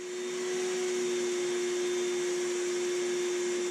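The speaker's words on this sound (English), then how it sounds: "now that that's vacuumed" A vacuum cleaner runs continuously close by while the floor is cleaned before laminate goes down, making a steady loud motor whine with a fixed hum.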